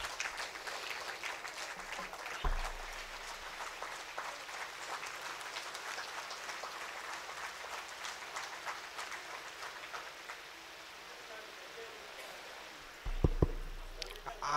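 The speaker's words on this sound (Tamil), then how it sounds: "உங்களுடைய கரகோஷத்துடன் பெருமைப்படுத்துகிறோம்" Sustained applause from a large audience fills the room, steady clapping with a few louder thumps near the start and end.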